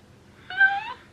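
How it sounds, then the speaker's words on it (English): A kitten gives a single clear, high mew, close and fairly loud, rising and then easing off over about half a second against a quiet background. "That's a kitten."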